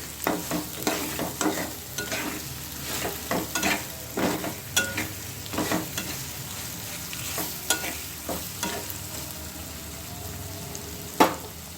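Spice paste frying in a pan with salt mixed in, a steady sizzle broken by repeated scraping stirs at an irregular rhythm, close and moderately loud with no voices.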